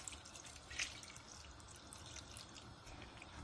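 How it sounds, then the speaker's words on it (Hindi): Water poured from a cup into a pot of lentils and mince, a soft, close trickle with faint splashy drips, steady and quiet. "मैं इसमें पानी डालती हूँ"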